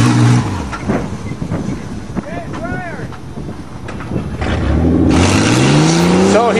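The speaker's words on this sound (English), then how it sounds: "he preheats his tires for extra traction" A pickup truck in a farm tug of war, Ranger against Dakota, revs hard and spins its tires to heat them, a rising engine whine over a loud rushing hiss in the last seconds, following quieter talk and outdoor noise.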